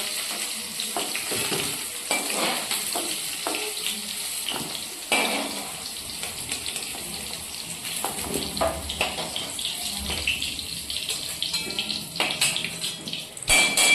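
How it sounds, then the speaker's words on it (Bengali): Cauliflower and potatoes frying in hot oil give a continuous bright sizzle, with scattered utensil taps and a light watery hiss underneath, close and steady throughout, with no voices. "এই যে ফুলকপি আর আলুগুলো কিন্তু আমার খুব সুন্দর করে ভেজে নেওয়া হয়ে গেছে।"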